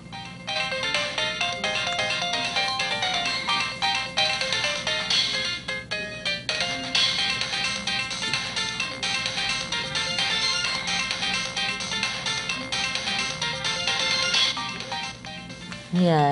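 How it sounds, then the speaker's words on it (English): Busy, continuous game music from Pokemon SoulSilver plays loudly and steadily throughout, with dense melodic layers and no pauses. "I need you guys to listen to this awesome music"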